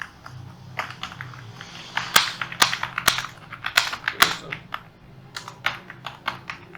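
Fingers type on a computer keyboard while entering text in Microsoft Word, a close, steady clatter of quick key taps with a few louder, sharper strikes and brief pauses in between.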